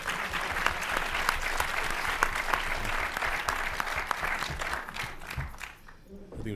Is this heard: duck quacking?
no